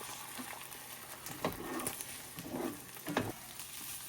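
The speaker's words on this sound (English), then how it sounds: "go ahead and add your eggs and get them scrambled into your chorizo and" Eggs, chorizo and potatoes frying together in a pan, a steady low sizzle with a few scraping stirs of a utensil near the middle, no talking.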